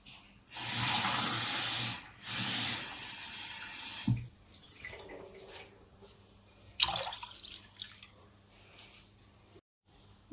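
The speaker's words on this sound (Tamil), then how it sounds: "ரெண்டு கிளாஸ் வாட்டர்" Water poured from a glass into a cooking pot for foxtail millet pongal, two close splashing pours in the first few seconds followed by softer trickles and light clinks.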